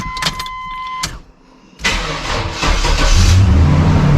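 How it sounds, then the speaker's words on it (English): A 1992 GMC Sonoma GT truck engine cranks over with a dragging starter whir, pauses, then catches and roars into a steady idle, loud and close. "the starter's gonna drag"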